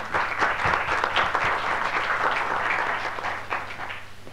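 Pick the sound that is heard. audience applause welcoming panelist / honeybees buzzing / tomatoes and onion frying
audience applause welcoming panelist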